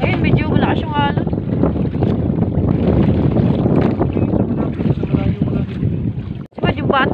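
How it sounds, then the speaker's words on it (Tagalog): Rough sea waves slosh and slap around a small fishing boat amid buffeting wind noise, with a voice speaking over the churning water. "Ngayon, medyo malakas yung alon."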